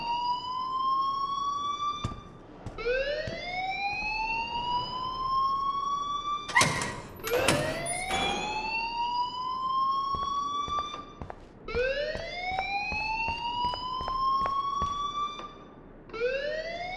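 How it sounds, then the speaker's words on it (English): Alarm ringing in the Life is Strange video game: a loud, wailing siren-like tone that sweeps upward again and again for the whole stretch, with a few clanks and bangs mixed in midway and no speech. "please turn off that alarm since that's your job"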